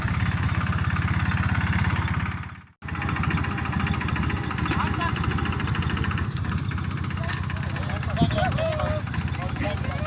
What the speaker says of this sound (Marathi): भैया ट्रॅक्टर चालवित आहे बघा आपला